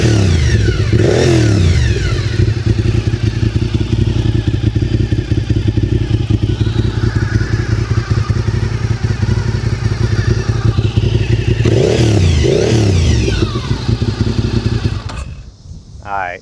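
A Honda RC51 V-twin sportbike runs loud and close with a throbbing, lumpy idle, blipped into sharp revs twice before the engine is cut and it falls quiet at the end.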